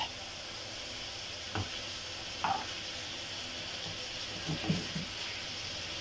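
Green peppers softening in hot oil in a pot while preparing lentils with meat, a low continuous sizzle with a few faint stirring clinks, steady and close, no talking.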